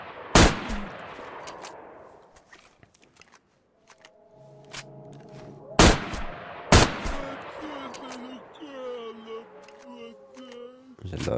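Gunfire in the STALKER video game: several sharp, loud single shots ring out with decaying tails, separated by quieter stretches of ambient game sound and tonal effects.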